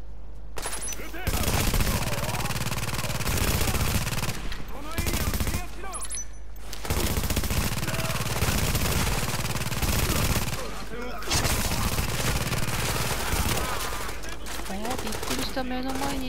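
Rapid automatic gunfire and bursts of shooting in the third-person shooter game Tom Clancy's The Division, loud and dense in long stretches with brief pauses, game effects mixed throughout and no talk heard.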